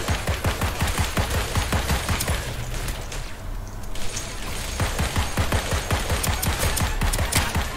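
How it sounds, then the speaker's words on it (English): Video game gunfire: a dense, continuous automatic burst of rapid shots, loud and close, briefly thinning in the middle before resuming at full intensity. "I was shooting at him"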